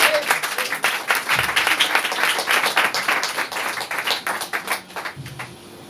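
A church congregation claps and applauds the Lord, a sustained wash of many hands clapping at close range, loud and continuous, fading slightly near the end.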